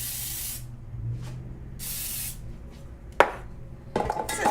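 Cooking spray hisses into a loaf pan for a lemon loaf in two loud, close bursts, followed by a sharp tap and some clattering handling noises.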